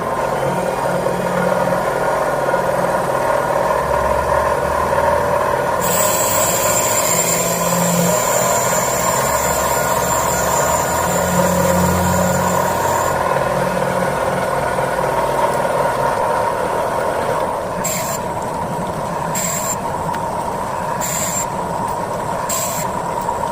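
A stone grinding machine faces the gasket surfaces of Ford 3.0 Ranger cylinder heads, starting with the intakes after the stone was freshly dressed. It gives a steady, loud mechanical whir and hum throughout, with brief high tonal bursts toward the end.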